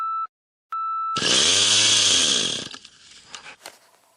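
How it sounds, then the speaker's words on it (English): A chainsaw roars at full throttle outdoors for about a second and a half, close and loud, after two short high beeps, then cuts off and leaves scattered knocks and rustling. "Fighting with this chainsaw. I finally got it going."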